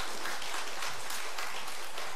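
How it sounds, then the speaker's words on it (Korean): A church congregation at a Sunday afternoon service claps together in a dense, sustained round of applause lasting a couple of seconds. "하나님께 영광의 박수를 한번 올려주십시오."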